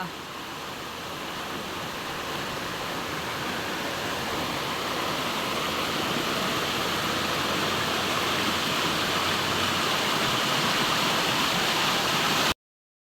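Water flows in a creek where people are about to bathe, a continuous broadband rush that builds slightly at the start and then holds steady before cutting off.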